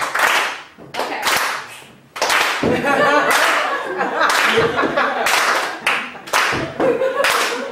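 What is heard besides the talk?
audience clapping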